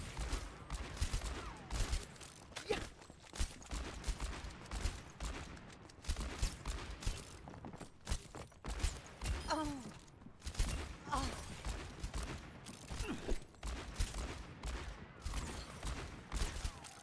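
Rapid video game gunfire crackles in bursts and volleys throughout aim training practice in a shooter, moderately loud with a player's voice occasionally speaking over it.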